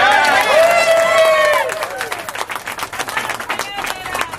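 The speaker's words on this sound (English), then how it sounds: "I think we all got to give a round of applause for Jamie" At a Portland Jobs with Justice awards rally, a crowd cheers and whoops, then breaks into rapid, fairly close clapping that carries on unevenly as the noise settles.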